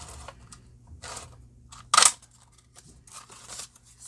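Scissors cut through paper to make circles, a series of soft snips and rustles at close range, with one sharper, louder snip in the middle and no talking.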